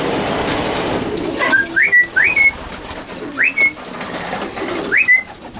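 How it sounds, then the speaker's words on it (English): Several short whistled bird calls ring out in a sparse series over a low background murmur, fairly close and clear. "trains 85 pigeons"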